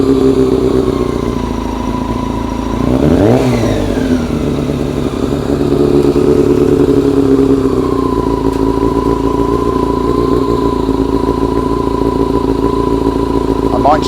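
A Suzuki Super Sting motorcycle engine, recently fitted with a reset carburettor, idles loudly and steadily, with one brief rev that is slow to drop back. Someone speaks over the engine.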